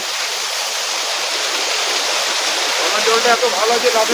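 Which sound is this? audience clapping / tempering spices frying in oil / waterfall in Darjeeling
waterfall in Darjeeling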